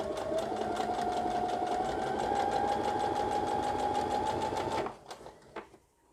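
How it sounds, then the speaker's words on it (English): A sewing machine stitches a straight seam through fabric with a fast, steady whirring hum and rapid needle ticking for several seconds, then slows and stops, leaving a few faint clicks. "Now let's start sewing, making sure that we keep in line with that presser foot."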